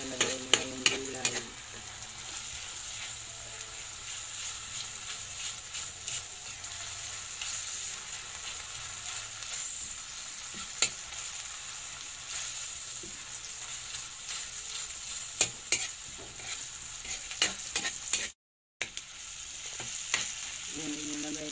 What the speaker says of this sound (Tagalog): Habang ako nag-gisa niluto ko pa yung kamatis.